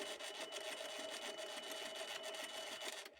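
A lathe hums steadily while turning a replacement drive pulley for a belt sander, a quiet, even whirring with faint rhythmic ticking that runs nearly the whole time before cutting off.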